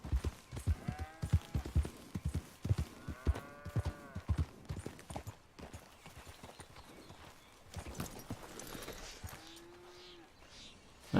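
Rhythmic Red Dead Redemption 2 horse hoofbeats clip-clop steadily at close range, with a few low animal calls and a brief whinny-like tone near the end.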